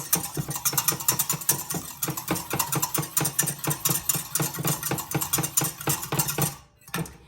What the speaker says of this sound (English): I'm gonna whisk those